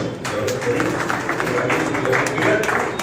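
Audience applause at a Hindi magazine launch and felicitation ceremony, a steady dense patter of clapping filling the room throughout, with faint voices mixed in.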